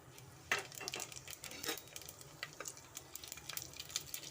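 Whole spices and cashews fry lightly in a pan, giving a faint, steady sizzle broken by soft clinks and scraping stirs of a utensil against metal.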